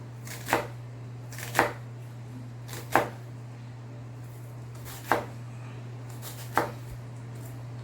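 A kitchen knife slicing through an onion on a cutting board: five crisp, separate cuts spaced a second or so apart, close and clear over a steady low hum.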